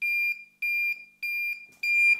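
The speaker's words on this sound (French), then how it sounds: "Il bip, ça marche parfaitement." A cheap connected thermometer-hygrometer-light meter, warmed by hand to about 28 degrees, sounds its alarm as four evenly spaced, loud, pure electronic beeps, each lasting about a third of a second; no speech.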